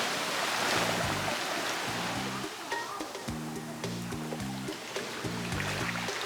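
Seawater at high tide on Havelock Island washes and churns in a steady, close rush, with low tonal hums pulsing underneath at intervals.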